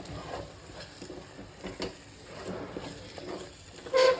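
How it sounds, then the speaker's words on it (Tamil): Masala paste for jalebi fish curry stirred with a spoon in a pan, soft scraping strokes over a faint sizzle, quiet and close, with a sharper scrape at the very end. "பேஸ்ட்டை போட்டு நல்லா கிண்டி விடணுங்க"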